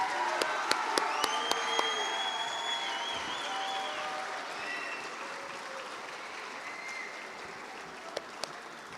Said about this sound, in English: Can we all give another round of applause for Mr. Simmons?